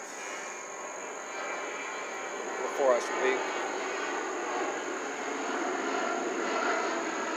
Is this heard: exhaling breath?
no